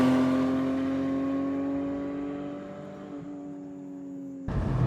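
Porsche 718 Spyder six-cylinder engine with manual gearbox, a sustained smooth engine tone that slowly falls in pitch and fades before a sudden louder burst at the end, heard alone without voices.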